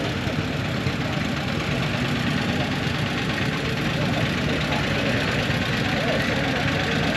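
Tractors from a tractor club idle as they round a corner during the Ettrick Fun Days 2024 parade, a steady dense engine rumble with a knocking texture that stays loud and even throughout, no voices.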